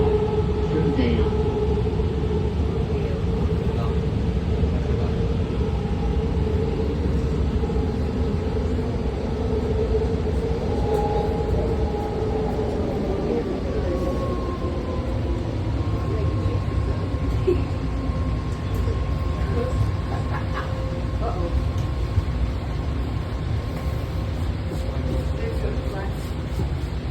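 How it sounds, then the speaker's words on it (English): A BART Blue Line train bound for Dublin/Pleasanton idles and moves at a station platform, giving a steady loud rumble with whining tones and a gliding pitch as motors shift, and no talk over it. "This is a Blue Line train to Dublin Pleasanton."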